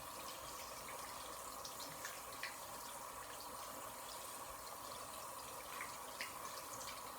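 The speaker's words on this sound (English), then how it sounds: "I'm going to rinse my hands with the water at a lukewarm temperature" Lukewarm water runs steadily from a tap while hands are rinsed from wrist to fingertips, a constant close hiss with faint drips and splashes throughout.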